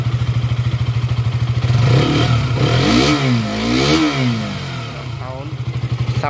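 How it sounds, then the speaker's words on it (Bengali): A freshly rebuilt KTM RC200 motorcycle engine idles with a close, steady rapid thump, then revs up and down in rising and falling sweeps before settling back to idle while someone talks over it. "তো এবার স্টার্ট করবো, স্টার্ট করছি, দেখো কিল সুইচটা অন করলাম, দেখো স্টার্ট হয়ে গেছে"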